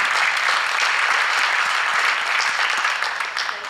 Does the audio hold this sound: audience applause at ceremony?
yes